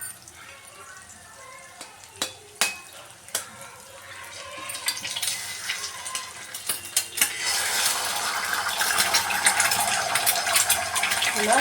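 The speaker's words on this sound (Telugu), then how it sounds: "ఎగ్స్ వేసుకుంటున్నాము" Eggs dropped into hot oil in a pan for chicken fried rice, utensil taps and clinks against the pan at first, then sizzling and spitting that builds into a steady loud hiss.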